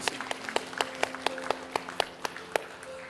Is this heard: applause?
yes